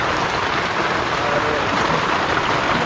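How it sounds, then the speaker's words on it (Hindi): Steady, dense rain hisses continuously outside, an even broadband wash with no pauses or voices. "बाहर बारिश जो लग रही है इसकी आवाज़ तो आप सुन ही रहे होंगे"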